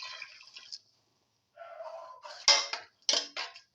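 Water is poured into a pan of sautéed lentil and tomato mixture, giving a brief splashing wash followed by a few sharp clinks and sloshes, close and fairly quiet.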